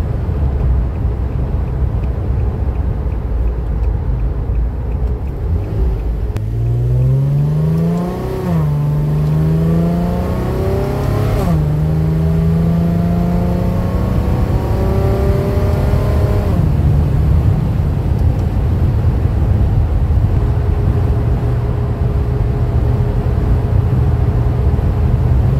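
A custom all-wheel-drive 1951 Infiniti Shoebox cruises at about 85 km/h, its engine droning loud and close with rising and falling pitch as it shifts and accelerates, then settling into a steady hum.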